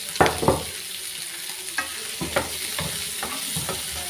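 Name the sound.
sautéing crushed garlic, shallots and chilli in a pan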